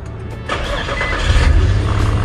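A used car's engine cranks and catches, then settles into a steady, close idle with a low rumble that grows firmer toward the end.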